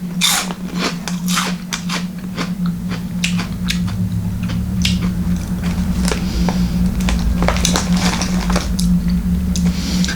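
Someone bites and chews crunchy, four-layered spicy Asian chips close up, making repeated sharp crackling crunches over a low steady hum, with no talking.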